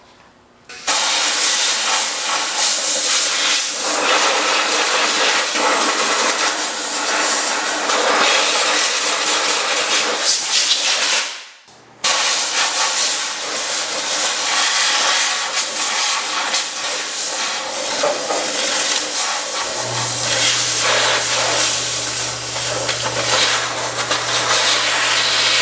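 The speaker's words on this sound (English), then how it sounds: "I guess I could spray it with the compressor." Compressed air blasts in a loud, steady hiss onto a 1972 Homelite T10 chainsaw engine, cutting off briefly midway before resuming as a long continuous spray, with a low hum entering toward the end.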